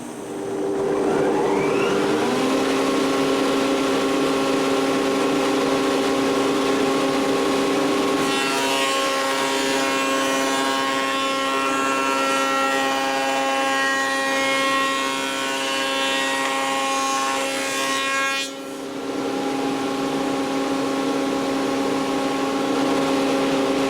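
A router with a lock miter bit making the vertical pass in wood: a steady high-pitched motor whine that loads into a denser cutting roar for about ten seconds, then drops back to the idle whine.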